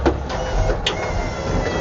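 Steady mechanical whirring of an automatic water hose reel retracting on a 2021 Renegade Valencia 35MB RV, a close, continuous motor hum with a couple of brief clicks.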